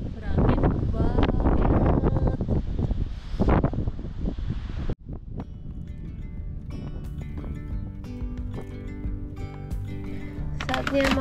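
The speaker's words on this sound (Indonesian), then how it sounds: "Berangin banget." Strong wind at Cauldscough Bridge in Scotland buffets the microphone in loud, rumbling gusts for several seconds, then drops away to quieter outdoor sound with faint clatter and some talking.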